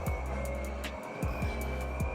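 Race car in a sim racing game lapping a narrow track, a steady loud engine drone with repeated quick gear-shift dips and revs, plus brief tire squeals.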